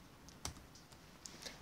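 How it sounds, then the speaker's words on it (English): A few soft computer keyboard key presses, a quiet click pair and a couple of lighter taps, sound close by in an otherwise quiet room. "click Control and A on my keyboard to select"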